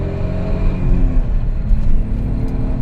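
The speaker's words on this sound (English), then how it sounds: "Here's some clutch noises, even when we rev high." A single-turbo 2JZ Toyota Aristo revs high, its loud engine drone and rumble running steadily throughout, with faint clutch rattles under the engine noise and no talking.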